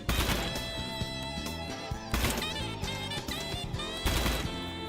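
Full-auto gunfire in a shooting game, rapid bursts of closely spaced shots that come in several clusters, loud and close, with ringing metallic tails between them.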